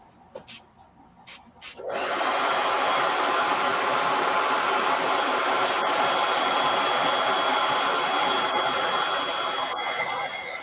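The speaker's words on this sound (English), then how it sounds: "I'm going to hit this with a blow dryer so I don't" A blow dryer switches on after a couple of seconds of quiet clicks and then blows steadily and loudly, a constant broadband whoosh drying fresh paint on a painting, running to the end with no talk.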